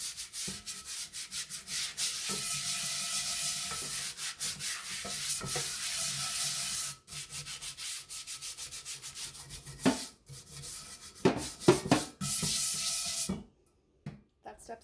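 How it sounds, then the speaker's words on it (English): A scrub brush with soap and water scouring a cast iron pan, continuous close bristly rubbing in long strokes with a few brief pauses and clatters, ending in near silence. "So a little water, a little soap, a little scrub brush. I'm gonna pick this up and just scrub like any other dish."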